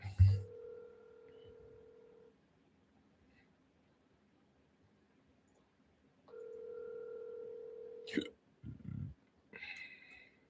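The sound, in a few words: phone call ringing unanswered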